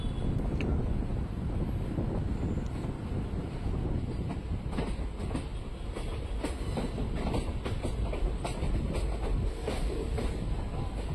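An Indian passenger train runs on the Hubli–Guntakal main line toward Ballari junction, a steady loud roar of wheels and carriages with rhythmic clickety-clack and wind buffeting, continuous throughout with no voices.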